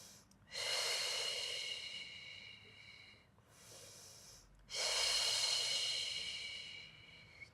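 Deep, airy inhalations held during a Pilates back and spine exercise, two long breaths with a shorter one between, close to the mic and fairly quiet with no talking.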